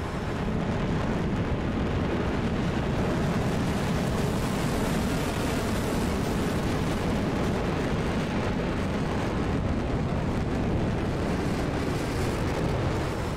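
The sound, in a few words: Sidewinder 9M missiles firing in flight video game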